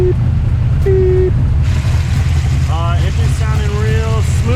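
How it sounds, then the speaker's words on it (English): An LS-swapped International Harvester Travelall wagon runs on a dyno with a loud, steady low engine drone throughout, while a voice speaks over it with rising and falling tones. "Engine's sounding real smooth."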